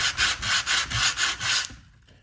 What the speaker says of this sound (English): we're just gonna take this and run it along the inside and sand it. Now, this is 60 grit I'm starting with